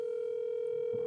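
A phone call placed on speakerphone to reach a trailer giveaway winner gives a steady, unbroken electronic ringing tone that holds evenly for about a second, moderately loud and alone with no talking.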